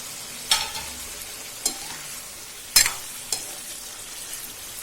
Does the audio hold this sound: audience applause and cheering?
no